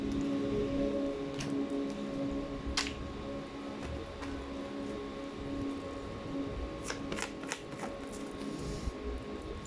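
Tarot cards are flipped and drawn by hand, producing a few quiet, sharp snaps and riffles scattered over a soft background hum, with no talking.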